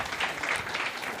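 An audience claps at a Bible college graduation, a short dense burst of applause that stays even and close from start to finish, with no voices.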